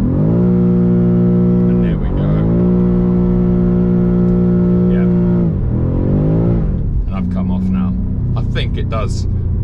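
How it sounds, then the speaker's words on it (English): A powerful BMW M5 CS engine revs hard during a burnout and holds at high pitch, dips and climbs again, then settles into a rough idle with squeaky tire-like chirps. "It does pretty good burnouts, as you would expect with a car that has this much power"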